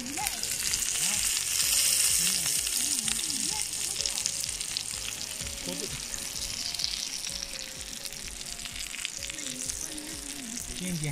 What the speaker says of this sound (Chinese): 油煎大虾